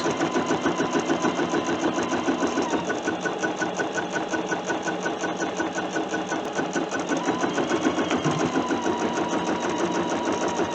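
A longarm quilting machine stitches an edge-to-edge design across a quilt, giving a steady, fast mechanical chatter with an even rhythm that runs unbroken and fairly loud throughout, with no talking.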